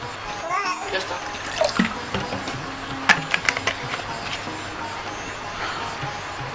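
Close water pouring into a container while preparing Indian sharbat, roughly a litre for four or five people, a steady splashing wash with a few sharper clinks and knocks partway through.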